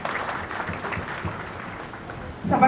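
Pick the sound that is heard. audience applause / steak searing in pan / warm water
audience applause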